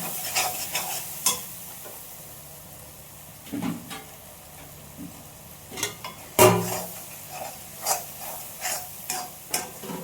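Ginger sizzling in a pan while being stirred for an egg tamarind curry, a low steady fry broken by sharp scraping and clinking strokes of a utensil, fairly close and with no voices.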